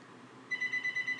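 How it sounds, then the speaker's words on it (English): Phone ringing in short repeated electronic tone bursts, quiet and steady, starting midway after a brief stretch of near silence. "Why is my goddamn phone ringing?"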